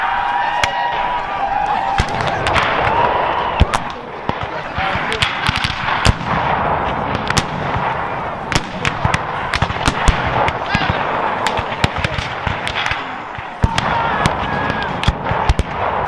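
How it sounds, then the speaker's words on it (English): Rifle fire crackles in a dense, continuous volley of sharp cracks and booms, a loud Civil War battle effect depicting the 1865 Battle of Aiken, with no voices over it. "a Confederate soldier prematurely fired his rifle, setting off the battle"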